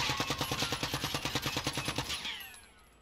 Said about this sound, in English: I'm going to check the recoil on the hip fire and obviously the aim down sights as well